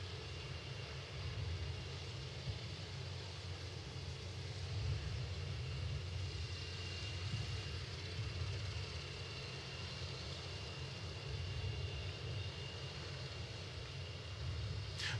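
The Boom XB-1 supersonic test jet roars steadily in flight during an accelerating dash, a continuous broad engine rumble at constant level from start to finish.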